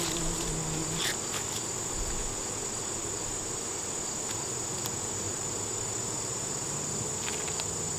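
Honeybees humming steadily across a hive frame during an inspection of a new colony, a constant dense buzz of many insects close by with a few brief sharper bursts, no voices.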